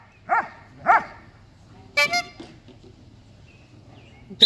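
Dog barking during bite training: two loud, sharp barks close by, then a clatter of noise and people talking faintly in the background.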